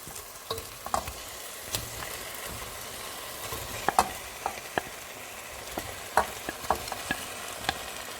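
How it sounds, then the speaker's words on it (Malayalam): Fried chicken pieces sizzle in masala with green chillies in a pan, dhaba-style, while a spoon stirs and scrapes, giving steady frying hiss with sharp intermittent clinks and knocks. "ഇനി ഇത് നമുക്ക് നന്നായിട്ടൊന്ന് ഇളക്കി യോജിപ്പിക്കാം."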